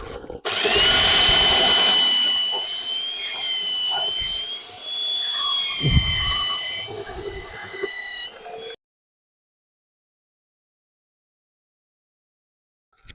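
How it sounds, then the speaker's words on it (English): A trusty belt sander smooths and flattens the cut edges of exhaust pipe for a cheap V12 Aston Martin DB7, a loud, close, steady whine with shifting pitch lasting about nine seconds before it cuts to silence. "So I'm now going to use my trusty belt sander to clean the edges up,"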